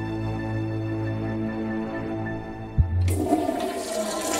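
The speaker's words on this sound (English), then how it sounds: "It still flushes." A prison-cell toilet in the game Stonewall Penitentiary flushes once: a low hum gives way to a sudden loud rush of water that continues to the end, with no talk.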